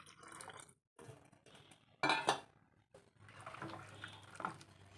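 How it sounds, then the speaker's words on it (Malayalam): Water is poured into a pan of rasam made with blended tomato and tamarind, with a clattering splash of metal pot and utensil noise midway and softer kitchen clinks around it, no talking. "കുറച്ചും കൂടി വെള്ളം നമുക്ക് ഒഴിച്ചു കൊടുക്കാം"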